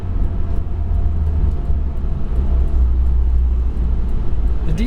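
A Honda EG6 with a B18C engine drives along, its low engine rumble and road noise steady and loud throughout, with no talk over it.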